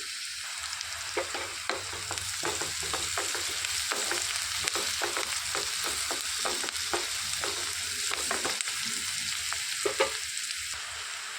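Green chilies and turmeric fry in oil in a pan for a cabbage and chana dal curry, with a steady close sizzle broken by repeated scraping stirs of the spoon throughout. No one talks.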